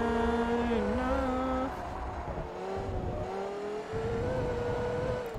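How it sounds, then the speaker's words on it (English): Porsche Carrera engine in the racing game Forza Motorsport 3, revving loudly with a rising and falling tone that shifts pitch through gears, steady and close throughout. "Such a beautiful engine."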